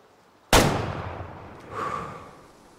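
A single hunting rifle shot at red deer in Way of the Hunter, an abrupt loud blast whose rumbling echo decays over two seconds, with a second swell of reverberation rolling back from a distance.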